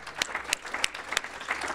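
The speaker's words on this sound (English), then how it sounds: "one more round of applause for all the students." An audience at a college capstone and systems project presentation claps for the students, a short round of scattered, moderately loud applause with distinct individual claps standing out.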